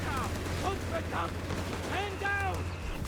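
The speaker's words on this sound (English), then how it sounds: "Ready to lead in some good machine gun shots against the advancing GIs there" Machine gun fire in a Company of Heroes 3 battle, crackling faintly in the background alongside distant explosions, while a commentator talks over it.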